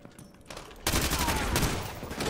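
Rapid gunfire bursts in the video game Call of Duty Modern Warfare 2 erupt suddenly and stay loud and dense, a sustained fusillade after a quieter start.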